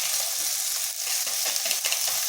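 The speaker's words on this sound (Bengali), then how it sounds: "মশলাটা একটু ভেজে নিচ্ছি।" Spice mix with chilli powder and pepper powder frying in a pan, a dense, continuous sizzle and crackle close by, with stirring scrapes breaking through now and then.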